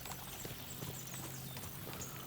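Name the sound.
horses galloping in video game Kingdom Come: Deliverance II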